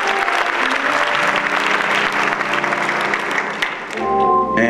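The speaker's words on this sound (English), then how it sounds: "Clap your hands for this man." An audience at an evening appreciation event applauds warmly in a loud, continuous round of clapping, with music tones sounding underneath and rising near the end.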